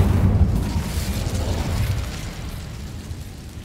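A fiery Incendio spell bursts in Hogwarts Legacy, a loud low roaring whoosh that flares at the start and then rumbles on steadily, fading slightly toward the end.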